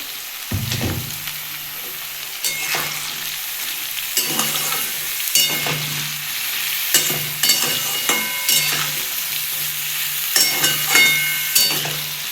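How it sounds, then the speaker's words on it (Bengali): Ridge gourd stirred and fried in a pan, a continuous close sizzle with repeated scraping and clattering stirs every second or so, no talk. "ঝিঙেটা দিয়ে ভালো করে নাড়িয়ে নিলাম।"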